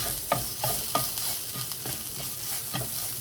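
A garlic and ginger mixture is stirred as it fries in a pan, with a steady soft sizzle under several rhythmic scraping stirs, close and alone.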